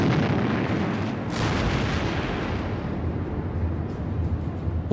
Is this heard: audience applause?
no